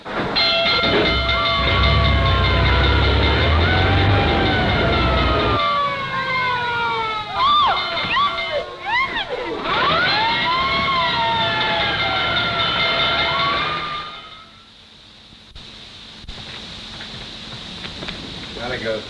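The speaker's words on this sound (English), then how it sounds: "looks as if I finally get my ride on a fire engine" A loud fire engine siren wails in rising and falling sweeps over heavy engine rumble, from a 1937 film, then fades away as voices talk.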